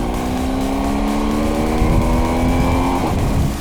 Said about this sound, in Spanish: Me tiene enamorado el sonido de la moto.